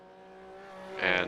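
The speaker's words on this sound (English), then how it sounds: "It looks like the Porsche Cup cars are going to be coming up on you again." Porsche Cup race cars in a sim racing game at the Nürburgring 24-hour race, with a steady engine tone that swells into a louder, brighter burst near the end, and a voice talking over it.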